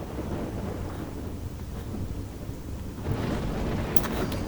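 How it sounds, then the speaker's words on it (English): Thunderstorm with steady heavy rain in the video game Stalker: Shadow of Chernobyl, a dense continuous wash of rainfall with low rumbling thunder that swells louder near the end, with no voices. "Man, I love raining thunderstorms."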